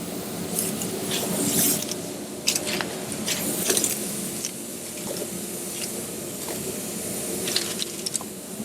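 A cloth wipes wax and grease remover across a car body panel before dent repair, giving a continuous soft rubbing and swishing sound at close range with a few light knocks.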